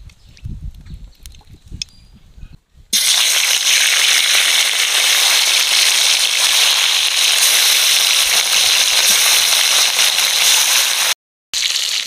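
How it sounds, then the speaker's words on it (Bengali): Fish rubbed with salt and turmeric frying in hot oil in a wok: after a few seconds of quieter handling sounds, a loud, dense, continuous crackling sizzle takes over and holds almost without a break. "মাছে আগে থেকে লবণ হলুদ মাখিয়ে রেখেছিলাম, এবার কড়াইতে তেল দিয়ে ভেজে নেব।"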